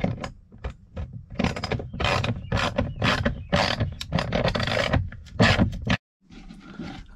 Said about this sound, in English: I'm gonna have to grab my tools and tighten it down with a wrench.